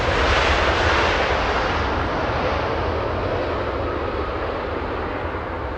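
A Volaris airliner departing Los Angeles International Airport for Guadalajara, a loud broad jet engine roar that is steady and close, then eases slightly as the aircraft climbs away, with no talk over it.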